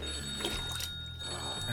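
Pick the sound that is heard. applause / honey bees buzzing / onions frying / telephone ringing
telephone ringing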